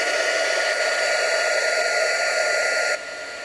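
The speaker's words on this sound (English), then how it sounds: "Okay, so I'm going to use my heat tool," A handheld heat tool blows hot air in a steady, close, hissing rush, then drops abruptly to a lower, softer blow near the end.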